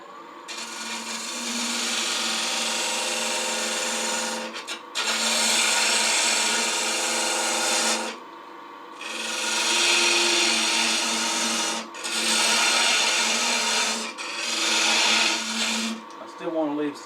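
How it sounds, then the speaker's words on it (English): Wood turning on a lathe during a parting cut and shaping, a steady broadband whir and scrape in long bursts of three to four seconds separated by brief pauses, close and fairly loud. "I'm going to take a parting cut down to that, and then shape this down a little bit"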